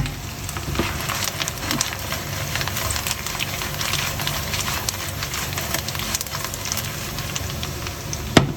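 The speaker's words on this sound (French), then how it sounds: "On va bien remuer." Sautéed potatoes with parsley sizzle in a frying pan while being stirred, a constant dense crackle with faint scraping movements and a small knock at the end.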